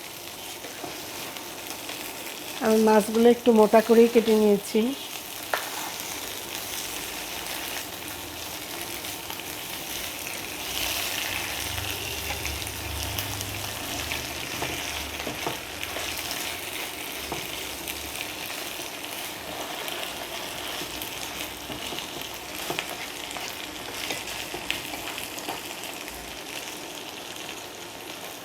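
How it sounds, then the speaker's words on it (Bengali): Thick-cut hilsa fish pieces fry in oil in a pan for mustard hilsa, giving a steady, soft, even sizzle that continues throughout; someone talks briefly near the start. "মিনিট ভাজার পরে আমি উল্টাই দিচ্ছি"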